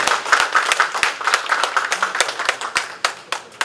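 An audience at a Buddhist university student debate forum applauds, with dense overlapping clapping and several distinct nearby claps cutting through, steady throughout.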